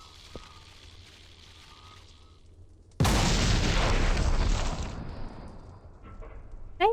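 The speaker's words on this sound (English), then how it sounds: "Nice thing is it's exploding and not making that much of a mess." A loud explosion goes off in the video game Viscera Cleanup Detail, a sudden broadband blast that roars for about two seconds, then tapers into a rumbling fire-like hiss with a few small pops at the end.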